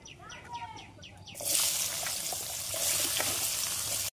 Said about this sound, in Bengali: তেলের উপর পেঁয়াজটা দিয়ে নেব।